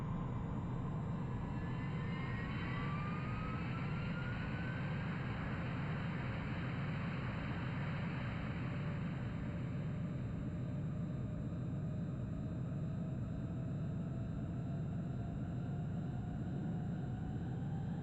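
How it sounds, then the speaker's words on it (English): Jet aircraft taking off in the video game Ace Combat 3, a steady broadband engine roar with rising whine tones that fade into a sustained rumble, heard alone. "Cleared for takeoff."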